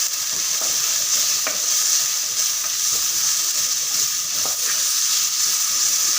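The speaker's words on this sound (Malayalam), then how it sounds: "ഇത് നല്ലോണം ഈ ഉള്ളി നല്ലോണം വഴറ്റണം." Onions sautéing in a pan for a red pomfret fish curry, a steady close sizzle with repeated scraping stirs of the spoon across the pan, no voices.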